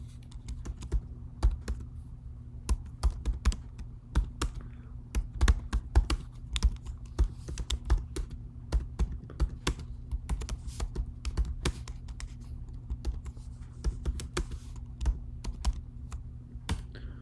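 Rapid keystrokes clatter on a computer keyboard in an irregular typing rhythm, close and steady over a low constant hum, with no voices.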